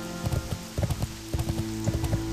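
Horse hooves clip-clop in a steady rhythm of close, evenly spaced hoofbeats in World of Warcraft, played over sustained game music while the horse is ridden through the Worgen starting area.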